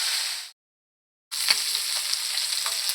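Kingfish (neymeen) pieces fry in hot oil for Kerala-style fried fish, with a loud, hissing sizzle that cuts out briefly and then resumes with crackling pops.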